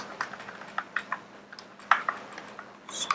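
Computer keyboard typing: quiet, irregular key clicks in short bursts, with one sharper keystroke partway through and a brief cluster near the end, with no voice over them.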